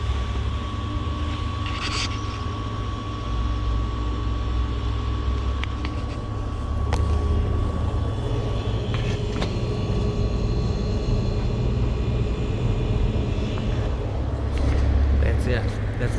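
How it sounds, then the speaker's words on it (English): A Maytag refrigerator compressor runs after a control board repair, a steady low hum and drone with a faint tonal whine, continuous throughout with occasional small clicks and handling noises. "I'm just gonna let y'all listen to the compressor"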